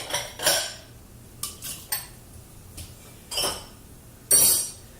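Dishes and cutlery being loaded into a dishwasher in a home kitchen, heard as a series of close, sharp clinks and clatters spaced irregularly, with quiet pauses between them.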